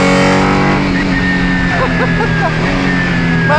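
Loud in-cabin drone of a Ligier JSP4 prototype's V6 engine on track at Imola, a steady, buzzing roar with shifting pitch as the car drives on.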